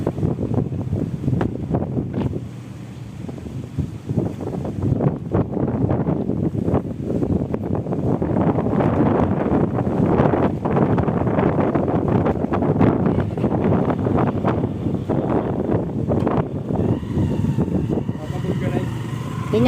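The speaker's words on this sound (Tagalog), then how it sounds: "Lakas ng hangin." Strong wind blows steadily across an outdoor tilapia fish pond, buffeting the microphone with a dense, rumbling roar throughout while people talk over it.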